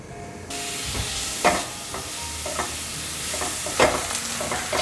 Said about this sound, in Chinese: 锅内放入1汤匙的油，把香菇和金针菇放进来炒香